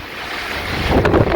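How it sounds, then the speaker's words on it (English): Strong hurricane wind from Hurricane Sally roars outdoors, rising in force and gusting loudly toward the end, with broadband rushing and buffeting against the microphone. "Just a little windy."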